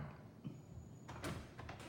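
A sliding glass door at a holiday rental rolls open, giving a couple of close, scraping rattles and a soft thud partway through, with quiet room tone before it.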